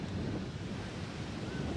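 Wind gusting across a waterside dock, a heavy low rumbling roar buffeting the microphone continuously with no pauses.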